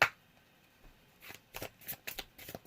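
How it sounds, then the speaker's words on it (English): Tarot cards are shuffled and flicked through a deck, giving a series of short crisp riffling snaps close to the microphone in a quiet room. "I'm gonna go ahead and pick out your card here."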